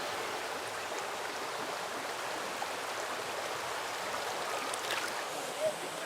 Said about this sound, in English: Its famously clear waters flow down from the surrounding mountains.